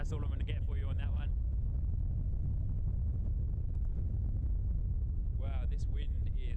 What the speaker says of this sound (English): this wind is absolutely crazy